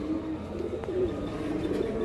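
Pigeons of an old breed, moulting, coo softly in a loft, low throaty calls repeating under a quiet background hum.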